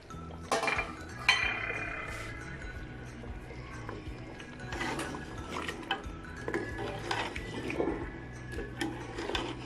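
A spoon scrapes and clinks against a pot while garam masala is stirred into beef paya, a steady run of light metallic knocks and scraping under faint kitchen ambience.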